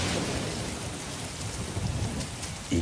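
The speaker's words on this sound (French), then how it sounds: "Il pleut." Rain and thunder as weather effects in the video game Red Dead Redemption 2, a continuous hiss of falling rain with low rumbling thunder rolling underneath, fairly quiet and unbroken by talk.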